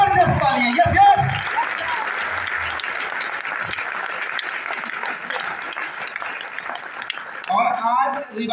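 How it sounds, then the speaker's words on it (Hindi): An audience at a Revival Program 2.0 seminar claps loudly with both hands raised, a thick, continuous burst of applause lasting several seconds, with a speaker's voice briefly heard at the start and again as it ends. "दोनों हाथ ऊपर करके जबरदस्त तालियां।"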